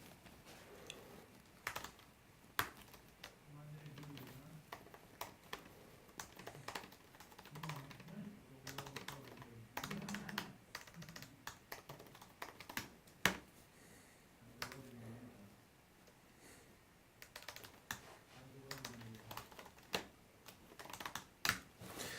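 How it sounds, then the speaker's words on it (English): Typing on a computer keyboard while entering default chatbot text, with irregular bursts of sharp key clicks scattered throughout and quiet murmured speech mixed in at low level. "now I'm going to type in default text to prompt the user to actually click one of the options"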